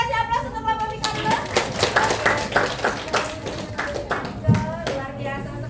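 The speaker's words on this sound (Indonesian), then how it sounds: "kita kasih aplaus untuk kelompok Miko dulu" Classroom applause for a student group: many hands clapping in a steady, dense patter that continues for several seconds, with children's voices chattering underneath.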